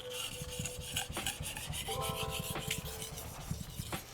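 A kitchen knife is sharpened on a whetstone, the blade scraping in repeated rhythmic strokes, close up and alone with no talk.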